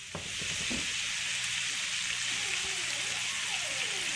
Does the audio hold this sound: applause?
no